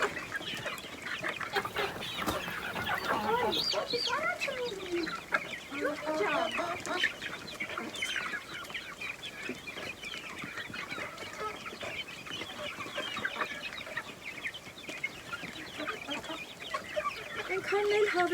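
At feeding time, a farmyard flock of hens and young chicks clucks and peeps continuously, a busy, overlapping chorus at moderate distance that runs through the whole stretch, with faint background noise.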